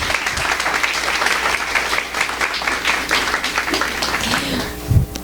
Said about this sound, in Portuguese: Por favor, uma salva de palmas para recebê-las.